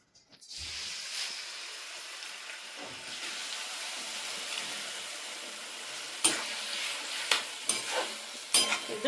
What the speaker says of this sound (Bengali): আমি শামুক দিয়ে দিচ্ছি দেখো তেলের মধ্যে